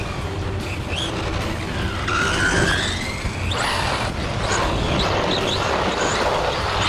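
A Team Associated Pro2 Hot Rod RC car tears around an empty parking lot at full throttle. A close, high electric whine rises and falls, broken by sharp tire squeals and skids, with no voices.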